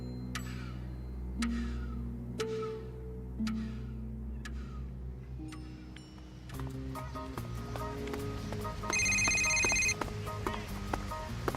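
A telephone rings in an old-style radio drama: a run of ticking, chiming tones gives way to a bright, trilling ring near the end, with no voices.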